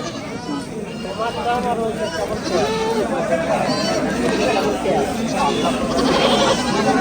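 Goats bleat repeatedly at a crowded livestock market ahead of a Qurbani sacrifice, wavering cries rising over a constant babble of nearby voices and people talking close by.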